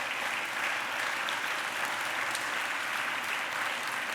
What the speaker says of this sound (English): if you can stand up to get an applause